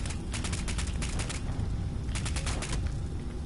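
Gunfire aimed at a Scorched Beast in Fallout 76 comes as a dense, continuous volley of rapid automatic shots with clustered bursts over a constant roar.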